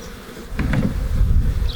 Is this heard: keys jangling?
no